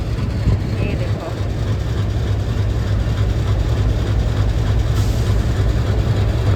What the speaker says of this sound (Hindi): इंजन मेरे जस्ट नीचे खड़ा है इंजन